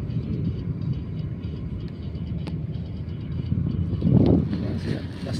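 A steady low rumble rolls on from inside a moving train, swelling briefly louder toward the end, with faint rattles over the continuous drone.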